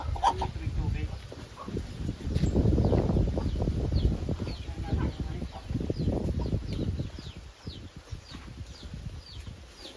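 Farm chickens cluck and shuffle close by, short scattered clucks and soft wing movements mixed with people talking over them throughout.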